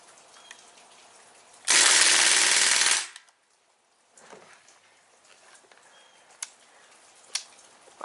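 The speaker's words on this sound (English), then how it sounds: "let's see if I can get a mag dump on that cardboard and see what it looks like" Crosman R1 BB gun emptying its magazine on full auto at a cardboard target, a single loud, dense rattling burst lasting just over a second, followed by quiet with a few faint clicks and taps.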